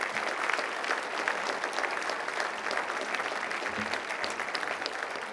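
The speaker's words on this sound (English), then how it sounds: "Come on, let's give them a round of applause." A crowd claps steadily and fairly loudly throughout, a dense even patter of many hands with no voices over it.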